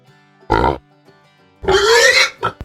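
Farm pig oinking and grunting in two loud close bursts, a short grunt then a longer squealing oink, with a couple of brief snorts at the end.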